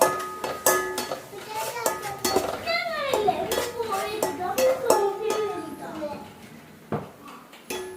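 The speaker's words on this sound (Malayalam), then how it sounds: "നമ്മൾ ഇഞ്ചി വെളുത്തുള്ളി ഇതിലേക്ക് ഇടാൻ പോയിട്ടോ എന്നിട്ട് നല്ലോണം ഇളക്കി കൊടുക്കുക" Ginger and garlic are stirred in a pot with a metal utensil, scraping and clinking intermittently beneath people talking, with children's voices in the background.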